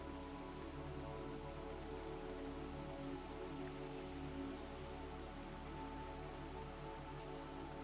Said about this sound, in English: The rain continued its gentle percussion against the windows